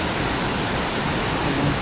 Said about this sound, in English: So we come to a reasonably sized waterfall.